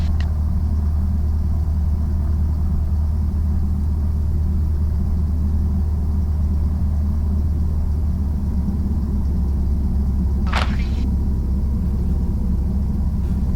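Light aircraft engine at Jandakot airfield rumbling steadily throughout a taxi, a continuous low drone with a brief higher-pitched sweep near the end, no voices over it.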